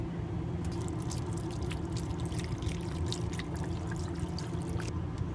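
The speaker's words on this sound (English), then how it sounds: "next we're gonna pour in our chicken broth" Chicken broth pours into a cooking pot in a soft, steady stream with faint trickles and splashes over a low background hum.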